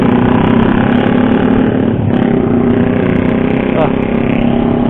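Loud motorcycle engine roaring steadily nearby on a city street during a ride, with a Honda CBR250R in the riding group, a continuous dense rumble that fills the whole stretch without letup.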